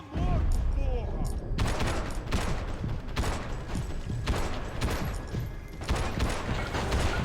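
Gunfire from a weapon in the action game Max Payne 3 during a fight against police. Several rapid, dense bursts of close shots arrive one after another with hardly a pause, and a voice speaks faintly underneath.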